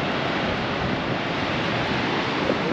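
Water pours from the dam outlet at Hetch Hetchy in Yosemite, making a steady, loud, broadband rushing roar with no pauses or voices.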